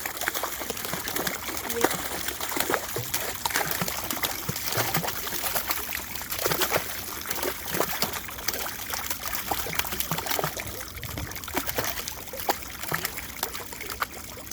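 Water and fish are tipped from buckets into a pond during restocking, making continuous splashing, pouring and trickling up close. The sound comes in uneven gushes with small splashes through it and stays moderately loud.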